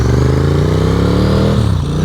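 A Naxeon I AM electric motorcycle, a 72 mph machine, pulls off the line, a steady close motor whine with a faintly rising pitch that dips near the end.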